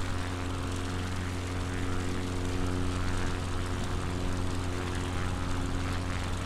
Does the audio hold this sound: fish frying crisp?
no